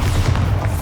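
A Bombarda explosion spell cast in Hogwarts Legacy, a deep, loud boom rumbling steadily through a short moment without a sharp attack.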